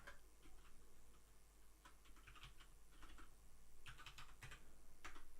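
Fingers tap out a terminal command on a computer keyboard, a quick run of light clicking keystrokes in short bursts with pauses, close and fairly quiet over a low hum, with no talking.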